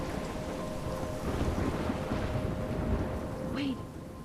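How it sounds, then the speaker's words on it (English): In the Life is Strange video game, steady heavy rain pours and thunder rumbles low and continuous through a storm, with a brief faint voice near the end. "I'm trapped in a storm?"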